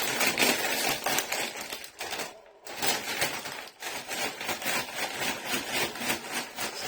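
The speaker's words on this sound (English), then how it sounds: "Agitate the bag, get that flavour and aroma going." A bag of Bangers and Mash flavour potato crisps shaken hard, giving a dense, continuous crinkling rattle with a brief pause midway, close and loud, with no talking.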